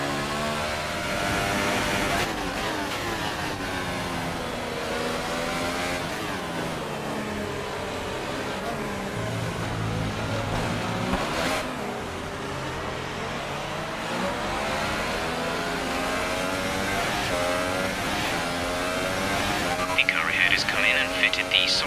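An F1 car from F1 2018 pulls out onto the Chinese circuit and builds speed, a steady high-pitched engine whine climbing and shifting through gears over about twenty seconds, loud and continuous.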